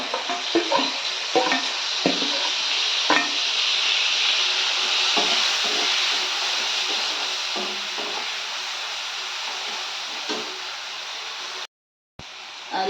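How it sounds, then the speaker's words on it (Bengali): Dry red chilli powder and turmeric fry in oil in a pan for a Bengali vegetarian lunch, with steady close sizzling under repeated scraping stirs throughout and a brief dropout near the end. "দেখতে দেখতে মশলাটাকে ভালোভাবে কষিয়ে নেব"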